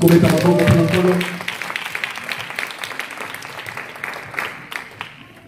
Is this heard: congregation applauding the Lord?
yes